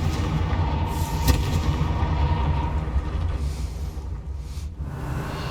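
A Confringo spell explodes in Hogwarts Legacy, a sharp boom followed by a deep, rolling rumble that trails off, loud and close with no talking.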